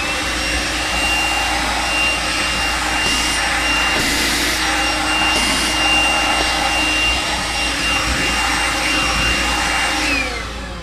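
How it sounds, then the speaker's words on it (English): A Makita 18V cordless vacuum cleaner runs steadily at close range, a continuous high whine with airy suction noise and a few brief surges as it picks up debris. "vacuum this right up."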